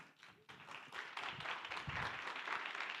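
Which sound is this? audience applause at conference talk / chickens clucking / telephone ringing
audience applause at conference talk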